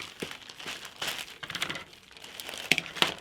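A thin plastic bag crinkles and rustles near the microphone as it is pressed flat for embroidery, with irregular crackles and a few sharp snaps.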